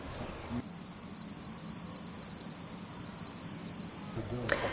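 Grasshoppers chirp in a grassy embankment, a steady run of quick, evenly pulsed buzzing phrases at moderate level that starts abruptly and stops shortly before the end, with no voices.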